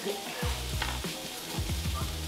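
Steak sizzles in a hot pan, with steady frying hiss broken by a few soft clanks and scrapes as the meat is handled.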